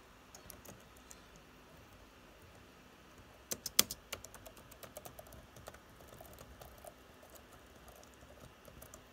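Typing on a laptop keyboard, quiet clicking keystrokes with a short louder burst of taps near the middle, close and soft, without talk.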